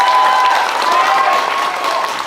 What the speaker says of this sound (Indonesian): Tepuk tangan sekeras-kerasnya untuk